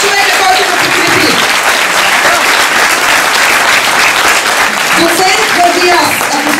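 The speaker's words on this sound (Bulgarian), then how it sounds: "Аплодисменти, дами и господа." Loud, sustained applause from an audience at an exhibition and film event, a dense clapping crowd filling the whole stretch, with a voice speaking over it at the start and end.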